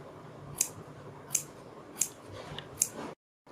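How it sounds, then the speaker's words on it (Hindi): Four sharp scissor snips at a steady pace while small neckline cuts are made in fabric for a kurti or dress; each cut is a crisp, close click with quiet room noise between, ending in silence. "इसके बाद हम बीच में से भी इसकी कटिंग कर लेते हैं और दोनों साइड गले में छोटे छोटे से कट लगाते हैं"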